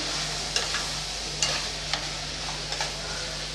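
Vegetables for sambar rice sautéing in a pan, a steady close sizzle with several scraping stirs of a spoon at irregular intervals, no talking.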